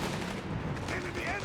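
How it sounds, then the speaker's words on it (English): A Sherman tank firing on a Panzer in Company of Heroes 3, dense rumbling artillery and gunfire blending into a continuous low roar with faint voices mixed beneath. "Panzer being hammered by the Sherman."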